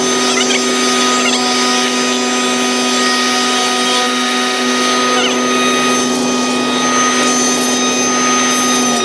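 A router cuts dovetails in West Indian cedar, a loud, continuous high-pitched motor whine with steady tonal hum and occasional slight shifts as the cut proceeds.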